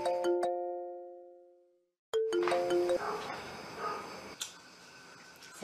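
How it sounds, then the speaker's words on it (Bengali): A mobile phone's ringtone sounds an incoming call as a bright, melodic chime that rings out and fades, breaks off briefly, then starts again under clattering room noise. "ফোন আসছে তো ফোন ধরবি না"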